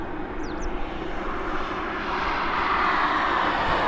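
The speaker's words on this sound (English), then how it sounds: "there's 2 aircraft on approach" Cargo freighter aircraft approaching East Midlands Airport, a steady broad engine roar that grows slightly louder and closer over several seconds, with faint bird chirps early on.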